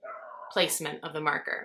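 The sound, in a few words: dog barking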